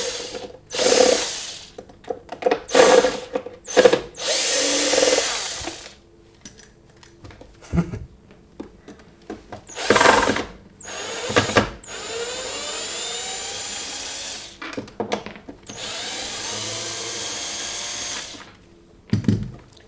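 A power drill unscrews screws from a Multipraktik multi-tool kitchen appliance, sounding as several loud whirring bursts with short ratcheting pauses between them, close up and without talk.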